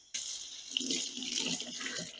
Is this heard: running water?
yes